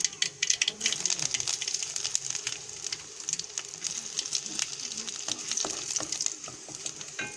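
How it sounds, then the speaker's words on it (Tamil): Mustard seeds and dried red chillies fry in hot oil, giving a bright sizzle with crackling pops and spits at close range, and stirring is audible along the way. "கடுகு சேர்த்துக்கலாம் வரமிளகாய் சேர்த்துக்கலாம்"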